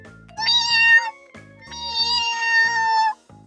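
A cartoon cat meows twice in long, drawn-out, tonal cries, with a rhythmic low musical backing pulsing underneath and short gaps between.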